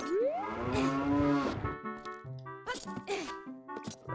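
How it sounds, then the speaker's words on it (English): Cows moo in the Zelda Ocarina of Time video game: one long, loud low moo comes first, followed by several shorter, choppier lowing calls in quick succession. "Hey, moo moo cows."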